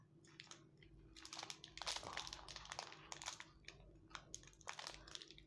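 Bourbon biscuit packet being ripped open up close, a quiet run of crinkling plastic and sharp tearing crackles in uneven bursts.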